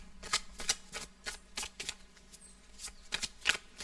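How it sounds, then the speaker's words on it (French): Oracle cards being shuffled by hand, with about a dozen crisp riffling bursts in a loose rhythm, close and clear in a quiet room with no talk. "Je vais approfondir un peu avec d'autres cartes."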